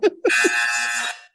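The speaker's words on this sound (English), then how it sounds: "So I will use the buzzer if necessary." A single loud, harsh electronic buzz from a timekeeping buzzer at a panel discussion sounds for about a second, right after a brief clatter of handling noise.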